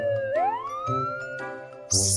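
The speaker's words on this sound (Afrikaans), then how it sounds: "polisiekar" A police car siren wails with a rising, sweeping tone, close and fairly loud, followed by a brief bright jingle at the end.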